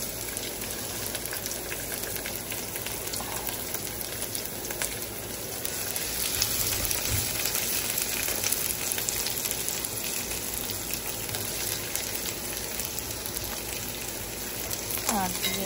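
Onions fry in hot oil with browned garlic for a spinach dish, giving a steady, rain-like sizzle that hisses continuously at moderate volume.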